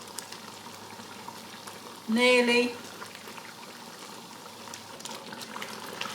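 Marmalade boils in a pan with a steady bubbling hiss that carries on throughout. A voice briefly speaks a single word partway through.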